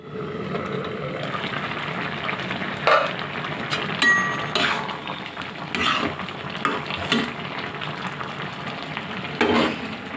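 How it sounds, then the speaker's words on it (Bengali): Oil sizzles and crackles as whole cumin seeds and a dried chili are tempered for bottle gourd, steady frying with occasional clinks and louder spits throughout. "বাগার দেওয়ার জন্য আমি পরিমাণ মতো তেল দিয়ে দিয়েছি, কয়েকটা আস্ত জিরা, একটা শুকনো মরিচ"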